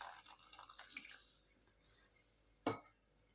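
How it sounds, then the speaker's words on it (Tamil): A small amount of water trickles into a bowl of flour dough, already mixed with hot oil, for crispy thattai snacks; a faint, brief pour is followed by a single soft splash or drip. "அப்புறமா கொஞ்சமாக தண்ணியை ஆட் பண்ணிவிட்டு"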